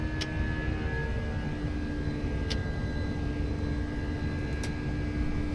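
Steady broadband engine roar with a constant hum and a high tonal whine from an FSLabs A320X airliner in the Prepar3D flight simulator, holding level throughout with a few faint brief clicks.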